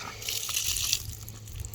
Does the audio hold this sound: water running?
yes